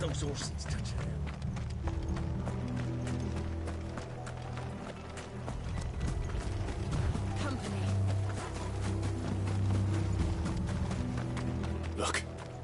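Horses gallop in Final Fantasy XVI with a steady clip-clop of hooves and low rumble, heard beneath game music and scattered voices across the whole stretch.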